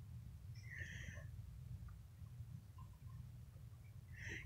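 A new baby kitten gives a couple of faint, high mews at the start and end over a low, steady room hum.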